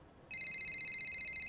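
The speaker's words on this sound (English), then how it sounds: "I'm getting a phone call." A phone rings in the F1 25 racing game's story mode, a sudden steady electronic ringtone pulsing in quick regular beats at moderate volume with no one talking.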